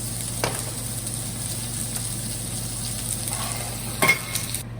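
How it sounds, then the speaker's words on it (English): Garlic, ginger, onion, carrot and celery fry in oil over fairly high heat, a steady close sizzle with a couple of sharp scrapes from stirring and no speech. "Keep it on a fairly high heat. Mix that round, let that fry."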